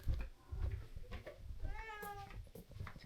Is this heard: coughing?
no